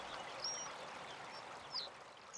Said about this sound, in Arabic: والماء له صوت